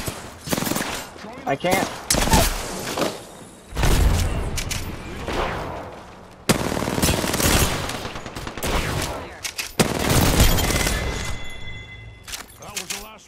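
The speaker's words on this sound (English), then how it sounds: "Another team shooting us in the ass." Bursts of automatic gunfire from an enemy team in a shooter video game, loud rapid fusillades in several separate volleys with sharp cracks, while a player talks briefly over them.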